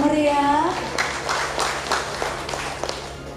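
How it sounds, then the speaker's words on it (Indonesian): Scattered applause at a ceremony inducting the Mayor of Malang as an honorary member of the Perisai Diri martial arts organisation, with a voice at the start followed by sparse, moderately close claps. "Sekali lagi tepuk tangan yang meriah."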